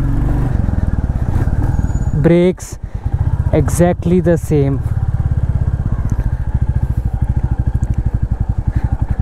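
A Royal Enfield Classic 350 motorcycle engine thumps at a steady idle close by, with a brief throttle blip, while someone talks over it in short phrases.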